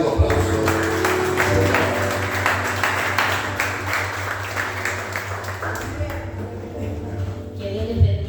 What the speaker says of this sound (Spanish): Un cálido aplauso.